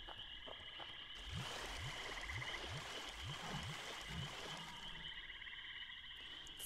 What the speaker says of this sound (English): This is what it sounds like to run in the swamp.